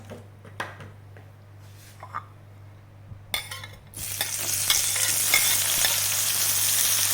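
Coconut oil heats in a pan for a stir-fry of mixed vegetables: quiet clinks and taps at first, then a loud, steady hiss of sizzling oil that builds from about four seconds on and holds to the end.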